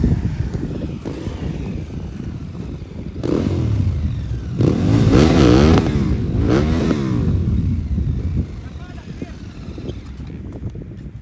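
An enduro motorcycle revs hard, flat out in second gear on desert terrain in Kuwait, with a rising, swelling engine roar that peaks mid-clip amid wind buffeting on the microphone, and talk heard throughout.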